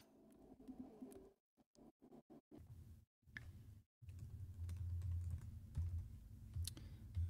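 Quick irregular clicks of keys on a ThinkPad laptop keyboard, fairly quiet and close, with brief pauses between bursts over a low background hum.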